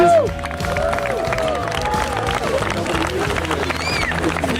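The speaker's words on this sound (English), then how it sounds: "give them all our sponsors a round of applause, please" A crowd at a kids' trout derby event applauds the sponsors, steady clapping mixed with cheering and chatter, with a voice briefly over it.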